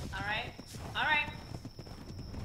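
Horse hooves clip-clop in ARK: Survival Evolved, a soft, fairly near irregular patter of steps, joined by a couple of short horse whinnies.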